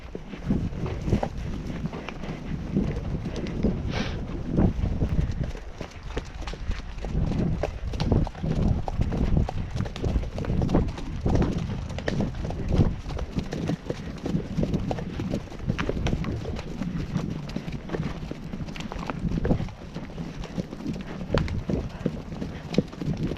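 Ponies' hooves clip-clop steadily and close by on a trail ride through open terrain, a continuous rhythmic patter of trotting steps with occasional soft voices in the background.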